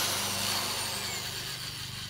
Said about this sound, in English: I'm getting ready to drill some holes in my plastic buckets.